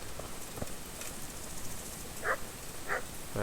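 A dog barking in a video game, three short barks spaced out toward the end over a quiet, hissy game ambience.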